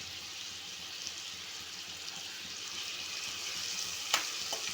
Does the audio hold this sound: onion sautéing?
yes